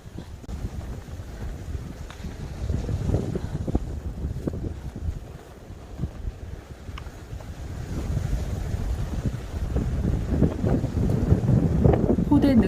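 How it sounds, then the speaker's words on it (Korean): Strong gusty wind buffets the microphone on a snowy mountain ridge of Dobongsan, a loud, continuous roar rising and falling in waves with no talk. "바람이 너무 많이 불어서 도저히 서 있을 수가 없었습니다"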